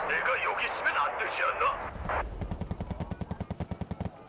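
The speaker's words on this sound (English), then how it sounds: "Where's all this artillery fire coming from?" Artillery fire in the strategy game Wargame: Red Dragon: after someone talks, a rapid string of about twenty evenly spaced booming shots rolls out in quick succession, fairly loud.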